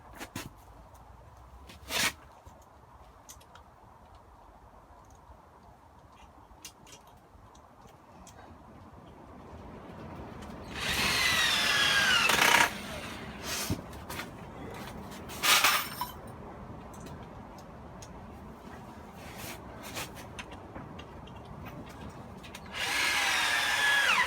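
A power drill drives screws through a wooden batten for a garden potting bench top, in two loud bursts of whirring separated by quiet handling noise, with a final burst at the end.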